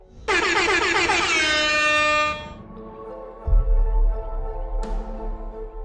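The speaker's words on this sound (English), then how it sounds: "he jump scares the player using an air horn" A blaring air horn jump scare from the Ultimate Custom Night horror video game, one long harsh blast that cuts off, followed by a low rumbling thud and a short sharp click, with no voices.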